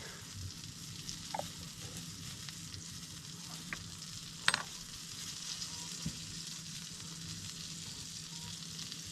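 Minced garlic sizzling in a pan at a campsite, a soft steady frying hiss with a few faint clicks and one sharper tap, heard alone at low level.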